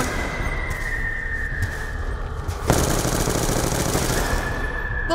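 Sustained machine gun fire from an MG in Black Ops 2 Zombies, loud and dense, with a continuous rattling burst starting partway through and a steady tone behind it.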